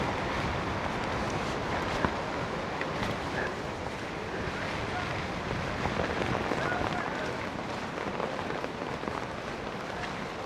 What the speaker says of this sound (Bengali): এখানে আর অনেক বেশি বাতাস, দাঁড়ানো যাবে না, প্রচণ্ড রকমের বাতাস